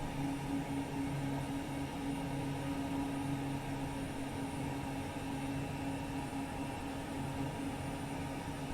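A light bush plane's engine in Microsoft Flight Simulator 2020, flying over New Zealand backcountry, drones steadily and evenly throughout with a constant, moderately loud hum and no talking.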